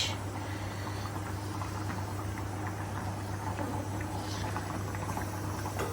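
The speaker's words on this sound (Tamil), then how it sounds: "மீன் குழம்பு கொதிச்சிட்டு இருக்கு." Fish curry (meen kulambu) with curry leaves bubbling steadily in a pot, a continuous close simmering hiss with soft popping bubbles and no talking.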